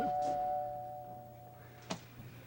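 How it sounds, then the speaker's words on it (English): A doorbell in a 1970s sitcom home chimes with a sustained ringing tone that fades, followed by a second sharp ring about two seconds later, quiet room ambience between. "Doorbell."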